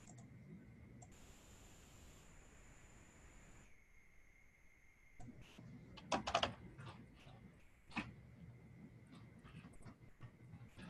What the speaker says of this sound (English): let me start typing in the requirements